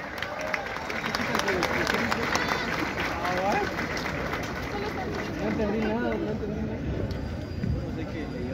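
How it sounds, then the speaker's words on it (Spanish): An outdoor crowd claps and cheers for a marching band at a band festival in Antigua, Guatemala, a dense, steady applause with chatter and voices mixed through it. "les brindamos un fuerte aplauso, por favor"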